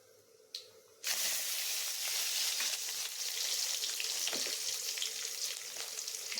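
Whole small shallots and curry leaves hit hot oil for a drumstick sambar: a short quiet lead-in, then a sudden loud hissing sizzle that stays strong and steady, with faint stirring scrapes.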